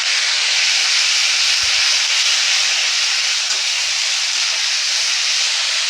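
Ginger and cumin paste hitting hot oil with fried potatoes: a loud, continuous, hissing sizzle, close and unbroken from start to finish.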